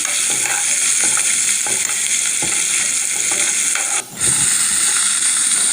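Onions and green chillies fry in a pan with a loud continuous sizzle, punctuated by rhythmic scraping stirs and one brief dip in the hiss.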